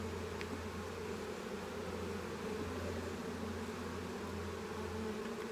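Honeybees and male drones buzz steadily and close during an open beehive inspection, a continuous dense hum with a low droning undertone running throughout, no talk.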